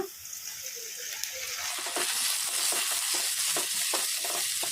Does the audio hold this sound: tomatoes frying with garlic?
yes